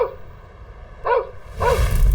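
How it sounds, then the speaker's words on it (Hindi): A dog barks twice, short sharp yaps spaced about half a second apart, fairly close, over a low rumbling background. "तभी एक कुत्ता भौं भौं कर रहा था।"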